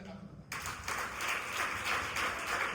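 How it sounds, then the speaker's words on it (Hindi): A congregation bursts into applause at a Christian sermon, the clapping starting abruptly after a half-second of near quiet and continuing as a dense, even patter. "जरा तालियां लगा।"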